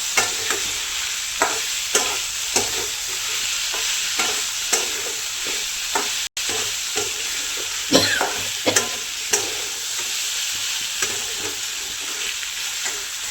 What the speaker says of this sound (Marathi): आता त्या मिळ्याबाट्याच्या चकल्या चांगल्या परतून घ्यायच्या